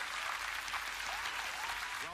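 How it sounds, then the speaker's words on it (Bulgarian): A church congregation applauds in a steady, dense burst of clapping that fills the room, heard close and continuous throughout. "Дайте си едно хубаво ръкопляскане, хора."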